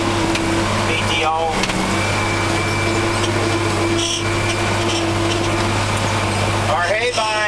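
A tractor engine holds a steady 1900 RPM while driving a Krone hay baler, a loud continuous drone with a constant low hum and faint squeaking mechanical chatter, with someone speaking over it.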